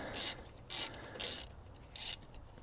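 A 3/8-inch ratchet clicks on a MINI Cooper S R53 JCW alternator, giving four short bursts of raspy pawl clicking with brief pauses between them, close and fairly quiet.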